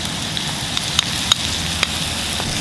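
Sauce goes into a sizzling bamboo shoot stir fry, setting off a steady broadband hiss with a few sharp crackles and pops, close and alone.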